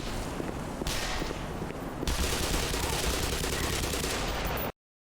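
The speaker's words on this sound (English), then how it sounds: "God, what a shitty grenade launcher." Weapon fire in the video game Black Mesa from a grenade launcher, heard as a dense, loud stretch of gunfire-like bursts with two sharp onsets that continue without pause before cutting off abruptly.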